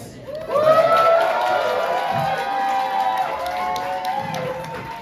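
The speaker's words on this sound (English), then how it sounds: "You can give applause." An audience at a drag show judges' critique bursts into cheering and applause, with whoops and excited shrieking voices rising over steady clapping that carries on throughout.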